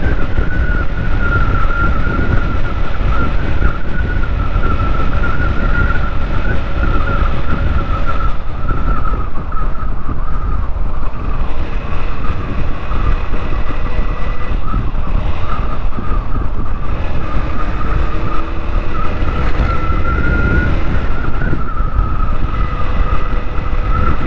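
Motorbikes race along a road, heard from a following bike: a loud, sustained engine drone with a steady high whine and constant wind and road roar, without speech.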